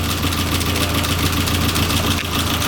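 A Nissan 240SX, just started, idles out on the street with a loud, dense, continuous engine drone that stays steady throughout.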